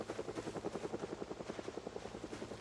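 A helicopter in a video game, with a steady rapid rotor chop pulsing over an engine drone, moderately loud and continuous, with no talk.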